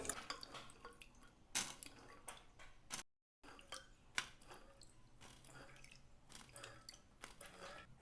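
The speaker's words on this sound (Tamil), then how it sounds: "அதனால் இதை நம்ம நல்லா இதை வாஷ் பண்ணி எடுத்துக்கலாம்" Indian gooseberries (amla) being washed in water to remove dust and soil give off irregular drips, splashes and soft squishing handling sounds, close and moderately quiet, with a brief dropout midway.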